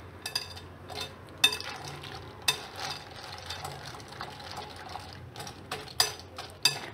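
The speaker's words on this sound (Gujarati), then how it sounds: "એને આપણે આ રીતે મિક્સ કરી લઉં" A spoon stirs boondi raita in a bowl, giving off sharp, intermittent clinks against the rim spaced irregularly over a quiet, soft swishing background.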